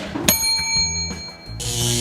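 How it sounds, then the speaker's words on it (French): A bright bell struck once like a school bell, ringing out with sustained metallic overtones before a burst of hissy noise takes over near the end. "quand c'est fini, on sonne la cloche comme à l'école."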